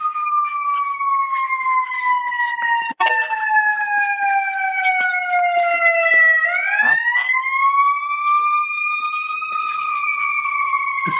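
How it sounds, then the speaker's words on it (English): A wailing siren with a steady tone that slowly falls, then rises again, heard at moderate distance without pause. "Sorry, sirens are in the background."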